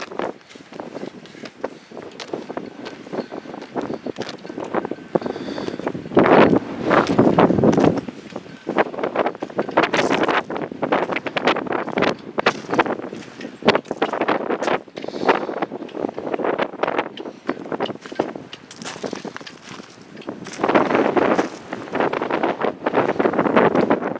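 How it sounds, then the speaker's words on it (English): Strong desert wind buffets the microphone in loud, gusting bursts for the whole stretch, with rustling and roaring surges near an old cemetery south of Quartzsite, Arizona. "I won't be doing a lot of speaking because it is so windy"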